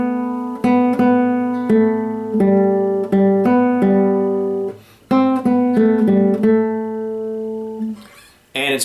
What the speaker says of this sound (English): it's a simple melody with a very narrow range